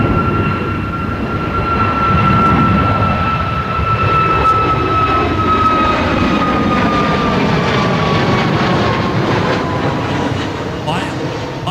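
Air Transat A330 jet engines at an airport, a steady loud roar with a high whine that slowly glides, running continuously throughout with faint voices underneath.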